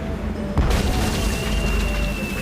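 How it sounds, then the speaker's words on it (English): A single deep boom from a Hungarian easy-action cannon on a pirate ship in Tales of Monkey Island bursts out about half a second in, followed by a sustained rumbling, airy wash. "Hey, it's one of those spiffy new Hungarian easy-action cannons"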